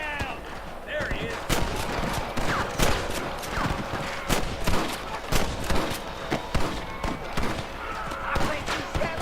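Repeated gunshots crack out in an outdoor shootout with a rustler guard in the Red Dead Redemption video game, irregular loud bursts over ambient noise, with a voice shouting between some of the shots.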